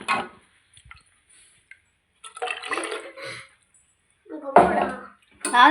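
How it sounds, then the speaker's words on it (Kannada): Short bursts of water splashing as it is poured, coming in a few uneven spurts with quiet gaps between them. "ಚೂರು ನೀರು ಪಾಡ್ತೀನಿ"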